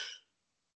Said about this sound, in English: Really sorry about the cough.